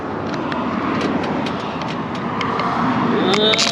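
Steady, loud roar of passing road traffic, a continuous rumbling wash of engine and tyre noise close by.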